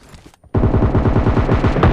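Rapid bursts of automatic gunfire from the video game PUBG Mobile Lite rattle loudly and continuously after a brief lull, dense and close.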